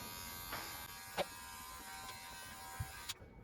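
A Hatteker professional electric hair clipper set to a 1.5 mm guard trims a beard, giving a steady close-up buzz with a few brief clicks and scrapes as it moves along the face before cutting off near the end.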